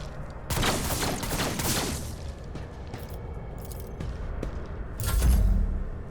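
Gunfire from the Warhammer 40k Rogue Trader video game, a dense burst of shots and rumbling booms for about two seconds, then scattered thuds and a heavier blast near the end, with no talk.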